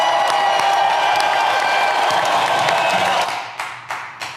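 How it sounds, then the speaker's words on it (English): Applause and cheering from a live audience fills the room, dense clapping that fades out toward the end, leaving a few separate claps. "Give them a round of applause"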